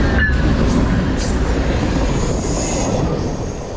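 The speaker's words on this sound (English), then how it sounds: "that train's moving." A train rumbles past close by, a steady heavy roar of wheels on rails with faint metallic squeals riding on top.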